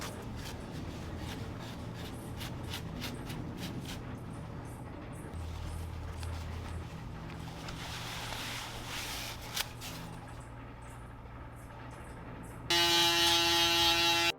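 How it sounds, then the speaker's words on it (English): An electric shaver is run over a trimmed beard to catch missed hairs, a faint, close buzzing with light rubbing strokes, ending in a louder steady motor whine. "now we are coming in with the shaver just to get any hairs that we missed"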